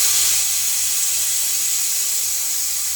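Spices temper in hot oil for chicken sukka, a loud steady sizzling hiss that fills the kitchen without a break, close to the pan, with no talk.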